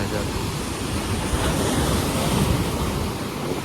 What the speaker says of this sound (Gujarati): વરસાદ ચાલુ થઈ ગયો છે અત્યારે